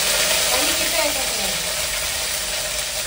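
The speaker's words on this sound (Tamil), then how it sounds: "கடுகு போட்டேன். ஓகே, காஞ்சி மிளகாய்" Mustard seeds and dried red chillies sizzle in hot oil, a loud, steady, close frying hiss that carries through the whole clip, with a voice speaking over it.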